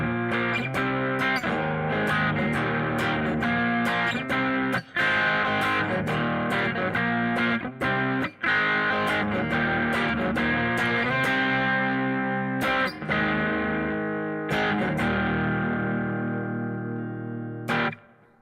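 An electric guitar plays strummed power chords through a chorus clone effect with reverb, loud and sustained, repeated chord hits with brief gaps and ringing tails, with no talk.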